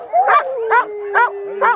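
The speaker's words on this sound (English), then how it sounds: "We use the dogs for transportation across the lake in the wintertime" Sled dogs at a musher's home on the edge of a northern lake bark and howl in four loud, close bursts, with a steady howl running underneath between the barks.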